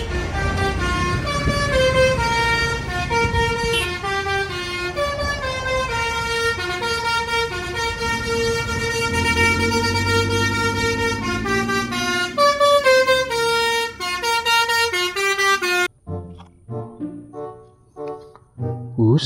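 A loud Indonesian bus basuri horn plays a rapid melodic tune of stacked musical tones for about fifteen seconds, then breaks into a few short blasts amid traffic noise.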